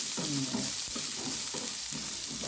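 Onions and green chillies sauté in a hot pan, a loud continuous sizzle with rhythmic scraping strokes of a spoon stirring roughly every half second, close up.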